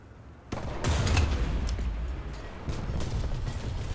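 A KW II tank's cannon firing in War Thunder, a sudden heavy boom at the start followed by a rumbling tail and another, weaker blast under continuous engine and battle noise.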